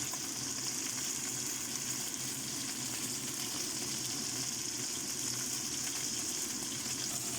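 Fish frying in a pan with spring onion and ginger gives off a steady, dense sizzle that holds evenly throughout, with no talk over it.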